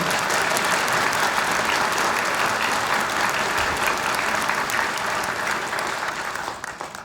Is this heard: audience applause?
yes